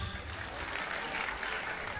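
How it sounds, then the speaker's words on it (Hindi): A school audience at Maharishi Vidya Mandir applauds standing parents, a continuous wash of many hands clapping together at moderate loudness, steady and unbroken from start to finish. "खड़े होइए, इनके लिए ताली बजाइए।"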